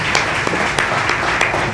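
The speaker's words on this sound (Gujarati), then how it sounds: "એકવાર જોરદાર તાળી આખા પરિવાર માટે થઈ જાય" An audience gives a round of applause for a family, dense steady clapping with a few sharper hand claps standing out near the listener.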